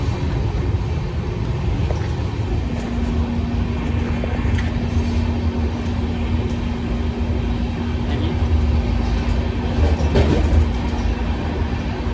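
Steady rumbling and rattling of a moving train heard from inside the carriage, continuous throughout with a faint tonal hum.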